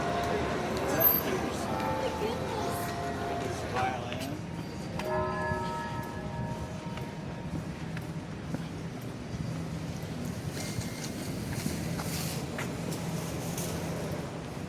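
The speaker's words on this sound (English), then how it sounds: "That's where you heard those bells, right there." Church bells at one of the oldest churches in Gatlinburg ring out in a short run of tolls, moderately near over street noise, while voices talk in the background.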